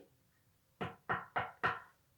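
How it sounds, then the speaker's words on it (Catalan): Four firm knocks on a door arrive in an even, quick rhythm, close and clear, after a brief quiet pause. "Toc, toc. Fa la porta."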